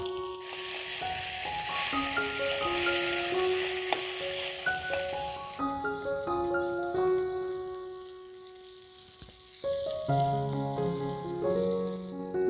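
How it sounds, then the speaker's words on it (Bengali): Small punti fish sizzle steadily as they fry in a hot pan for a bottle gourd curry. The crackle is loud and continuous for about five seconds, then fades under background music that plays throughout. "মাছগুলো আমি ভেজে নেব।"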